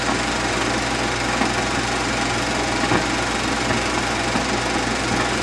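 An Allis Chalmers WD45 tractor engine runs steadily and loud, with a dense, continuous drone and no pauses as the machine drives off, with no voices.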